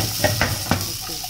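Capsicum and onion fry in a pan, a steady close sizzle broken by a few quick scraping stirs of a utensil, with no voices.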